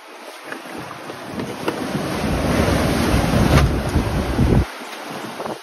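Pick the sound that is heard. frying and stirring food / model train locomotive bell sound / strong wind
strong wind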